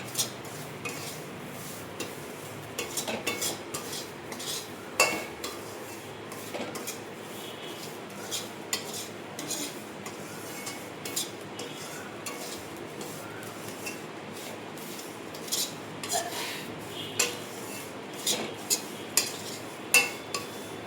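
Coconut filling for gujia being stirred in a pan, with soft scraping and scattered light clinks of a utensil against metal, irregular taps over a quiet steady background, no talking.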